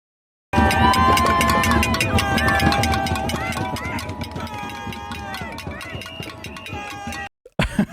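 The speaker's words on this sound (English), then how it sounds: "people are shouting free, free Palestine" Protest crowd outside the Cambridge Union chanting and shouting against an Israeli ambassador's speech, a loud, dense mass of voices with rhythmic chant pulses that thin out before cutting off abruptly near the end.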